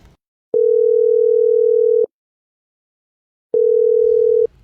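Phone call tone heard as two long steady electronic beeps, each about one and a half seconds with a pause between, loud and clear against near silence.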